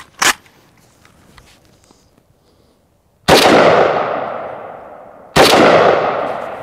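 An AK rifle fires 7.62x39 FMJ rounds into AR500 steel body armor: one sharp shot early, then two loud blasts with long ringing tails a couple of seconds apart, with no talking.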